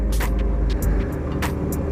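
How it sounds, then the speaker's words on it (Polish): A 2019 Toyota Supra GR with twin round exhaust tips idles close by, giving a loud, deep steady rumble with a few brief higher bursts riding over it. "O, wydech robi całkiem sporo hałasu."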